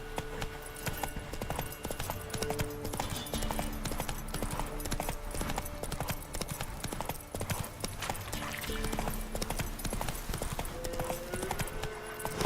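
The horse Roach gallops in The Witcher video game, a rapid steady clip-clop of hooves that continues throughout over a busy in-game background.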